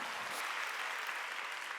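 Dense applause from a large church congregation at a Wednesday worship service, a steady wash of many hands clapping at once for the full stretch, loud and even throughout.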